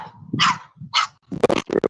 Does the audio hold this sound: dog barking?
yes